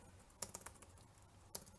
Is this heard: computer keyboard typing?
yes